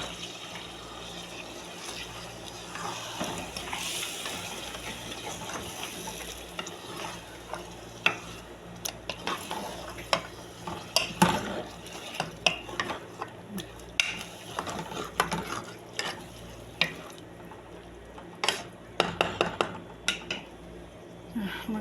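Chicken pieces are stirred into fried spices in a pan, giving repeated scraping and clicking strokes of the utensil against the cookware over a soft sizzle, growing busier and louder as stirring continues.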